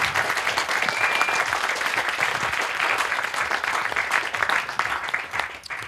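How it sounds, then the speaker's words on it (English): Sustained audience applause closing a conference talk on energy harvesting for smart autonomous electronics, a dense steady wash of many hands clapping at moderate distance for about six seconds with no speech over it. "Can I have a final applause for Yannick?"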